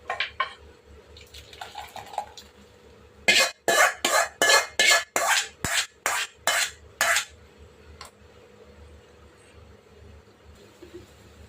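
A metal kadai is set down and handled on a stove: a quick run of about ten loud, evenly spaced metallic clanks and scrapes, with faint scattered clinks before and after.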